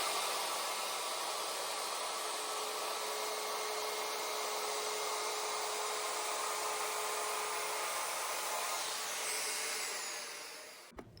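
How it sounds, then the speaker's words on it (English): A router with a round-over bit cuts along the bottom front edge of a mid-century dresser's wooden skirt, whining loud and steady for about ten seconds before spinning down. "For the front and side skirts, I just route over the bottom front edge."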